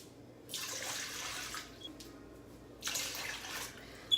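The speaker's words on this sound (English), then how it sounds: "I mix that seasoning packet with all my liquids first, and then I pour it over the top" Water mixed with a seasoning packet is poured over a roast in two short bursts, a soft splashing pour that stops, pauses, then resumes briefly, fairly quiet and close.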